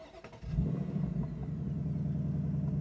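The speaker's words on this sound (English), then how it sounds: "Let's start this car up." A 2024 Ford Mustang Dark Horse engine cranks briefly, then catches and settles into a loud, steady low rumble close by, with no voices.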